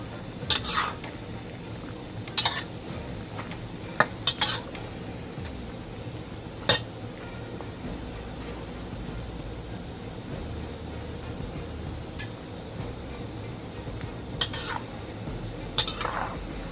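Gourami fish flakes being stirred in a pan for a spicy fish salad, with soft scraping of a utensil against the pan at irregular intervals over a low, steady frying background.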